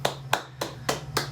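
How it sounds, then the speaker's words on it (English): Claps for students in a 7th and 8th grade class, five sharp hand claps in an even, unhurried rhythm, close and clear over a low steady hum. "let's give a round of applause to the 2"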